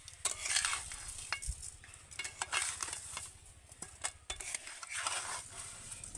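Chunks of ash gourd in melting sugar are stirred in a pan for a sweet murabba, giving soft scraping and clinking of a spoon against the pan over a gentle sizzle, close and quiet with no voices.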